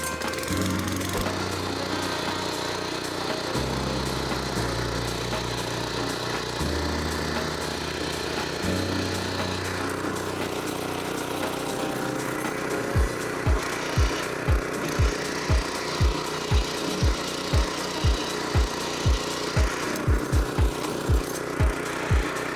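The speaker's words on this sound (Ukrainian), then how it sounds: "Поки я буду запускати мотоблок" A DTZ 570BN petrol walk-behind tractor ploughing, its engine running steadily with a low, loud drone, then a rapid regular series of heavy thumps and knocks in the second half, with no talk.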